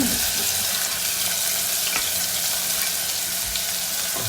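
Onions sizzle loudly in a hot pan for mutton keema, a dense, bright crackle of frying that runs without pause, with a few faint clinks of a utensil; no voices.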